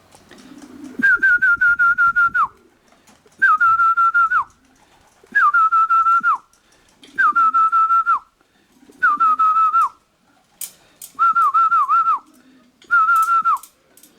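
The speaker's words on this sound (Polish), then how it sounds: "uczę je na wchodzenia na gwizd" Seven loud, near whistle calls, each a sustained tone about a second and a half long with a sliding start, repeated at a steady pace to call young racing pigeons into their loft, with faint bird sounds between blasts.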